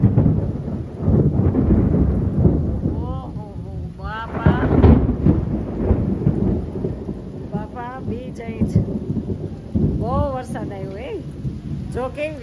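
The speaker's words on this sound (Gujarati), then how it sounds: "થાય, વીજળી ને કડાકા બડાકા જો અવાજ આવે." Heavy monsoon rain pours steadily while thunder rumbles and cracks during a lightning storm, with voices talking over the downpour.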